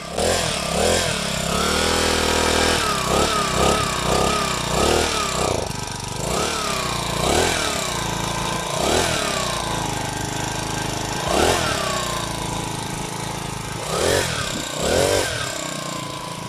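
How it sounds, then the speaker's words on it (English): A small two-stroke engine on a motorized bicycle runs close by, buzzing and repeatedly revving up and dropping back in uneven bursts. "And I think overall this engine looks pretty sweet. Here's a clip of it running on the bike."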